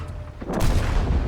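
A single tank cannon shot fires in a video game, with a Progetto 65 Italian medium tank in play: a sharp, loud boom with a brief rumbling tail, heard alone.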